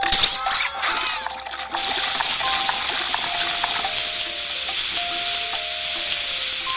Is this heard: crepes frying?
yes